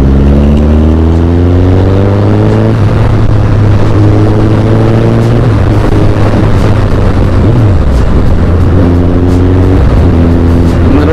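A Suzuki Hayabusa motorcycle is ridden at speed, its engine droning loud and close with rising and falling pitch as it shifts through gears, wind rush steady throughout.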